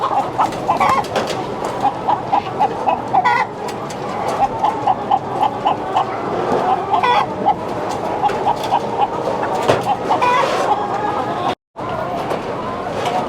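Chickens cluck and call continuously at an automatic broiler breeder poultry farm, a dense barnyard chorus with people talking over it.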